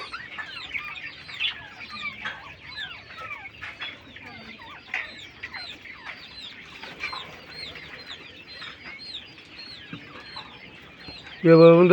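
A colony of budgerigars at a bird farm keeps up a dense chatter of high, busy chirps and warbles, near and continuous, with a louder voice-like burst at the very end.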